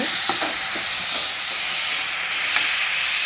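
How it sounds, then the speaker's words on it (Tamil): Tomatoes cook down in a pan for chutney with a loud, steady, steamy hiss and sizzle and a few faint stirring taps. "இப்போ தக்காளி கொஞ்சம் வதங்கிடுச்சு"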